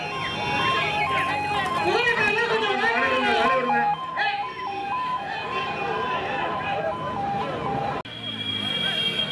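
An ambulance's two-tone siren wails steadily in alternating high and low notes over crowd noise and traffic at a horse race event in Karur, with raised voices mixed in.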